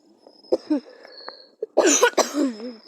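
A person coughs a few times up close, rough throaty bursts with a short pause between them.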